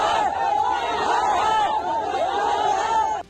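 A large crowd of migrant workers protesting against the Telangana government, a dense, steady babble of many voices with shouted calls rising over it, close and loud throughout before cutting off abruptly.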